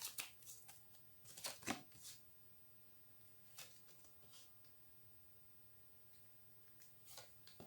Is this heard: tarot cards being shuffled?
yes